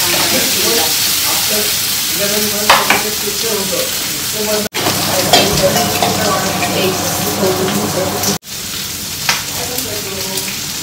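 Tomatoes and onion are stir-fried in a pan while cooking egg fried rice, giving a loud, continuous close-up sizzle broken by scraping stirs. The sound cuts out briefly twice.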